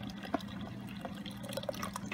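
Mauby, a Trinidad iced drink, being poured into a container, a faint trickle of liquid with scattered small splashes and drips.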